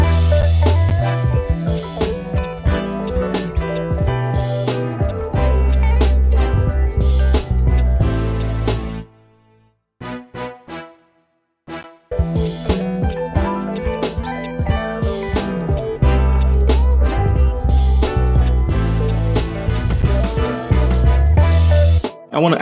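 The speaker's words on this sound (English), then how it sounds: "I've added a brass section which sounds like this." A brass section plays within a dense hip hop track built in Logic Pro, loud punchy stabs over heavy bass and drums, with a brief drop near the middle before the full groove returns.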